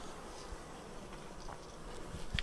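Honey bees buzz around an opened Flow Hive as a faint, steady hum fills the background, with a brief closer buzz passing near the end.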